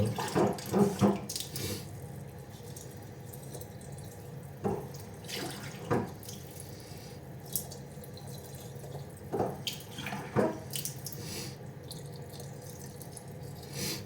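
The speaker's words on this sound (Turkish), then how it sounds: "Şöyle üzerine biraz daha su." Water pours from a tap into a container while a natural antibiotic for chickens is mixed, a steady close splashing stream with occasional clatter and rattles of the container.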